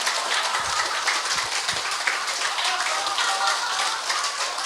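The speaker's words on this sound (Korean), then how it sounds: "자, 웃고 박수치는 운동 한번." A lecture audience claps their hands together as an exercise, producing dense, continuous applause-like patter that carries on steadily throughout without a break.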